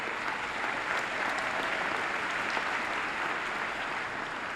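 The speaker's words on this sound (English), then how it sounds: "we can applaud that." A large audience at a 2013 Midland High School graduation ceremony claps steadily, a dense, even wash of applause holding at constant loudness from start to finish with no talking over it.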